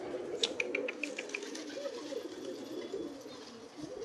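Pigeons coo softly in a low, throaty murmur, with a quick run of faint clicking or pecking taps early on and steady background noise throughout.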